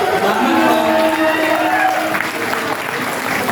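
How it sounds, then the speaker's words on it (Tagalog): An audience at a Filipino stand-up comedy show applauds a DJ with loud, dense, sustained clapping mixed with cheering and crowd voices. "Palakpakan po natin, ladies and gentlemen, ng DJ."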